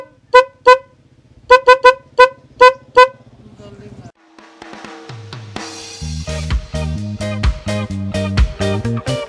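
A snail-type car horn being wired with a horn relay honks in a series of short, loud, separate toots, then sounds in longer, denser blasts over engine or background noise.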